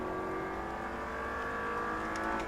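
An Audi R8 V8 accelerating on a track in Las Vegas, its engine note holding a steady, rising drone that stays loud and close throughout.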